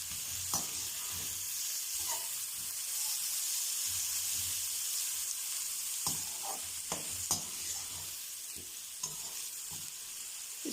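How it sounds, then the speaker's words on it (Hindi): Finely chopped onions fry in oil with a steady, bright sizzle and hiss, broken by occasional sharp clicks and scrapes of stirring in the pan. "तो अब हम इसमें प्याज डालेंगे।"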